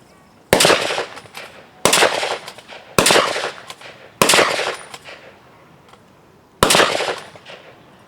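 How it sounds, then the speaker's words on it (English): A WWII-era rifle fires five rounds rapidly at an outdoor range, aimed at a traverse. The shots are sharp and loud with short decaying tails, four coming in quick succession and a fifth after a brief pause. "I want you to fire all 5 rounds as fast as you can."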